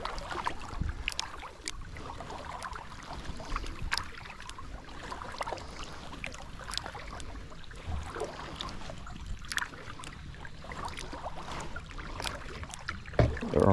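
A kayak is paddled down a scenic river with a picking-up current, the paddle dipping in soft, rhythmic splashes and drips close by over a faint flowing-water background, no talking.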